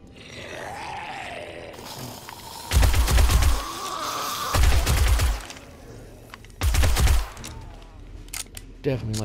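SMG fire in a video game comes in three loud, close automatic bursts, each lasting about a second, separated by quieter rumbling and background game noise, with a few short sharp clicks near the end.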